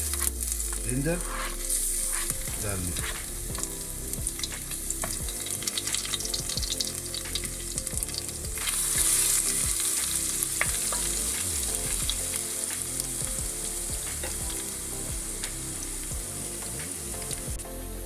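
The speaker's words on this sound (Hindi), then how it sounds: "करी पत्ता, अब मैं डालता हूँ जिंजर गार्लिक।" Curry leaves, ginger and garlic fry in hot oil with a loud, steady sizzle and crackle that carries all the way through, with occasional stirring clatter and no talking.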